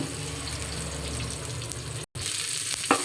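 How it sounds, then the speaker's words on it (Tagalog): Onion sautéing in a pan for salmon head sinigang sa miso, a continuous close sizzle with light stirring, briefly cut by a short gap before the frying resumes, no speech. "Habang ginigisa po natin siya"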